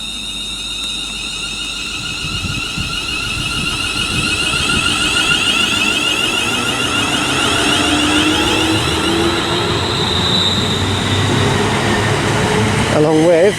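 Class 350 electric unit 350242 pulling out of Birmingham International on the West Coast Main Line bound for London Euston, a steady rising traction whine and rolling rumble building over station ambience, with a brief clatter at the end.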